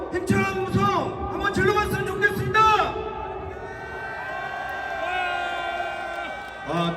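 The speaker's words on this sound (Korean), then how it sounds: "이 정도 갖고는 힘찬 함성이 아닌 것 같습니다" A crowd at a labor union rally shouts together in a few loud, ragged bursts, then a lone voice carries on over the low murmur of gathered people.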